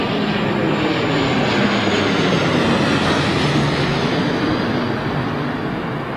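A propeller aircraft arriving on runway 27L at London Heathrow Airport roars loudly and continuously, a broad, dense engine rumble that stays strong and close throughout, tapering only slightly at the end.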